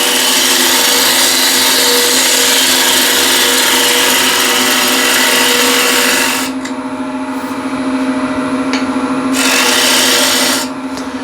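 Wood lathe turning a wooden container made from a plate and bowl, as a tool shapes the piece. A steady loud whir with a constant hum runs throughout, and the cutting rasp drops away briefly partway through, then returns.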